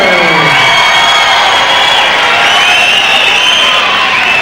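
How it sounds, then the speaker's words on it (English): A large crowd cheers and shouts loudly and continuously for Australian kickboxer Tony Antoniou at a kickboxing fight, with whoops and a few scattered voices rising above the steady roar. "this huge crowd rallying behind the Western Wonder, Tony Antoniou"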